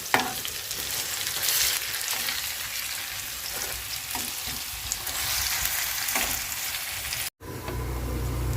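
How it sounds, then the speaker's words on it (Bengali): Onion fritters (peyaju) fry in hot oil, a dense, even sizzle close by with faint stirring clicks, briefly cut out near the end before resuming. "তো পেঁয়াজও আমার বাজা শেষ তুলে নিব আরও যে আছে কয়েকটা ওইগুলো বাজিয়ে নিব"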